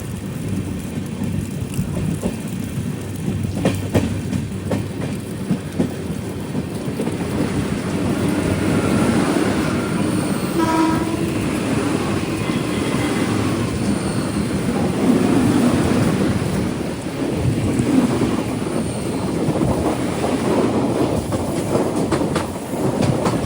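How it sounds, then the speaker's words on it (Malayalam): An express train approaching Thrissur station rumbles steadily along the rails, wheels clattering in a rhythmic clickety-clack, loud and close, swelling slightly midway with no voices. "ട്രെയിനിപ്പോൾ തൃശ്ശൂർ റെയിൽവേ സ്റ്റേഷനിലേക്ക് എത്തുകയാണ്."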